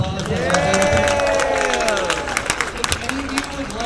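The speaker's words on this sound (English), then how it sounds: "So give everybody a round of applause." A TwitchCon crowd claps and cheers together in a loud burst of applause. A voice rings out over the start, then the clapping thins into scattered claps and crowd chatter.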